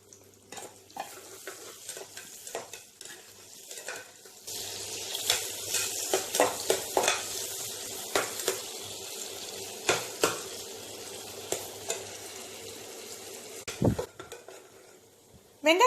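Onions frying in a pan for mutton keema biryani, a soft continuous sizzle broken by repeated scraping and clacking stirring strokes, close, with no voices.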